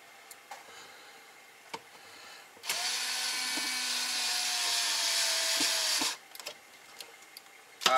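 A cordless drill drives a screw into a plastic Walcom S7 Scar cosmetic mod kit on a NERF Stryfe blaster. The motor whirs steadily and close for about three seconds, between scattered small clicks and handling noises.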